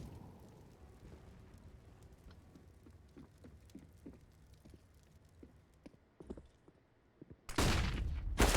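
Gunfire in the video game Counter-Strike on the map Vertigo: scattered sharp pops and clicks over a low background, then a sudden loud dense burst of shots near the end.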